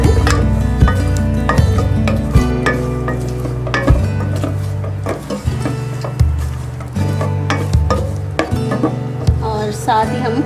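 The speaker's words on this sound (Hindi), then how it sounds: "इनको हल्का सा आप सौते कर लें।" Garnish for suji halwa is lightly sautéed in a pan, with repeated stirring scrapes, clinks of a utensil against metal and a soft sizzle in an uneven rhythm, close and fairly loud.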